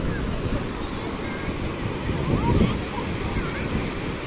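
Ocean waves break on Bheemili beach near Vizag in a steady, broadband wash with wind noise, swelling slightly louder midway.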